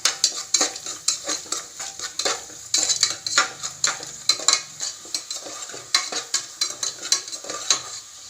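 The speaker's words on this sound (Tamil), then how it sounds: "கொஞ்சோண்டு உப்பு போட்டு அதை வதக்கணும்" Onions sautéing with salt in a pan for tomato rice, a soft sizzle broken by repeated rhythmic scrapes and clinks of a spoon stirring against the metal, close up.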